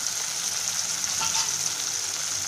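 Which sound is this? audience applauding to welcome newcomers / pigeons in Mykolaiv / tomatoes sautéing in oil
tomatoes sautéing in oil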